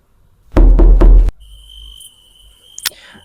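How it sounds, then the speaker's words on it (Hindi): Three loud, heavy knocks on a door in quick succession at night, close and booming, followed by faint crickets and a brief higher sound. "अब रात के 3:07 पे आरव के दरवाजे पर दस्तक हुई 3 बार।"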